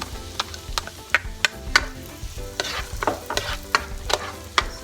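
Onions stirred and frying in a pan after garlic for pork rib kaldereta, with a steady sizzle broken by repeated sharp scraping and clanking strokes of a utensil against the pan, close and fairly loud.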